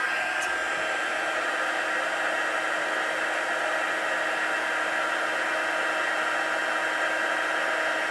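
A heat tool blasts hot air to melt embossing powder for a faux wax seal, giving a steady, loud, close whine and rush of air that holds unchanged throughout with no voices.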